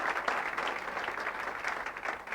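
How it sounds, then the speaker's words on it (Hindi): Steady, full audience applause for chief guests at a business motivational gathering, dense and continuous clapping from a crowd throughout, fairly close and even in loudness. "तो एक बार इन सबके लिए जबरदस्त ताली होना चाहिए।"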